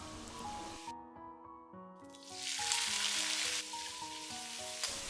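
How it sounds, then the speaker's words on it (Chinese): Shredded pork stir-fried in a wok, with a soft sizzle that swells into a louder, steady frying hiss partway through, under continuous background music. "把它炒香、炒散，炒熟以后，将它盛出来，装入碗中。"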